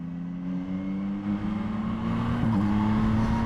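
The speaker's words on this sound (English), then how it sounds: "Engine braking's pretty severe" A 2021 Yamaha MT-09 SP motorcycle engine braking hard in an aggressive riding mode, a steady droning engine tone that holds close and loud, with a small pitch wobble near the end.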